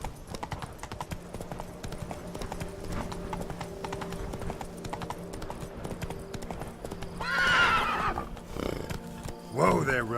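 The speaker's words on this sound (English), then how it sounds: "Whoa there, Roach" Galloping horse in The Witcher 3 video game, a steady run of hoofbeats throughout, then two loud whinnies near the end, the second after a short pause.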